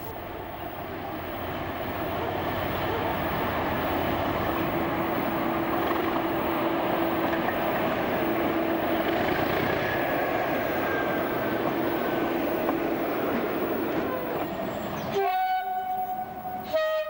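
Class 37 diesel locomotive 37668 rumbles steadily while splitting its china clay train near Moorswater works in Cornwall, a sustained close engine drone with wagon noise, ending in a loud sharp horn blast.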